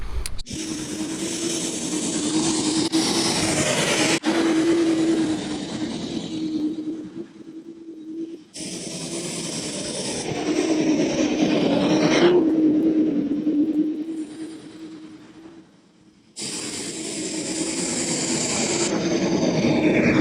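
A Sun Joe AJ801E electric dethatcher runs across a lawn pulling out dead grass debris, its motor whirring steadily with a low hum while the rough, scratchy raking noise rises and falls in several passes, with brief pauses between them.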